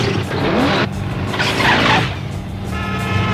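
A ghost motorcycle swerves in a radio-play effect: a loud engine roar with skidding, squealing tires and a whooshing pass, with no voices.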